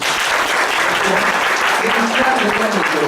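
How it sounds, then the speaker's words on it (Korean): A church congregation gives loud, dense applause, steady and continuous throughout the short stretch, with faint voices underneath. "큰 박수 한번 주시죠"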